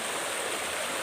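Creek water flows in a steady, close, even rush of broadband noise with no breaks.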